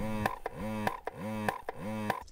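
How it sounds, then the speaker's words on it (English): A breast pump cycling through four rhythmic suction strokes, each a rising harmonic whine followed by a click and hiss, repeating about every 0.6 seconds, close and fairly quiet. "it's the sound of a breast pump."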